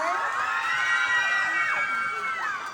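Pageant audience at Queen Of Goddess 2026 cheering and shouting loudly, high-pitched screams and whoops layered into a continuous roar that holds steady throughout.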